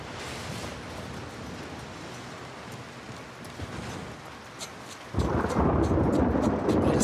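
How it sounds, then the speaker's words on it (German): A thunderstorm in the video game The Last of Us Part II with steady rain, then a loud rumble of thunder rolls in and keeps booming, filling the scene. "das Gewitter ist aber auch laut"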